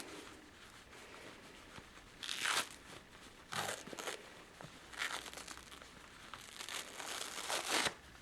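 Pantyhose peeled away from a damp felted wool dryer ball, giving a few close, soft crinkling and tearing bursts with quiet gaps between them.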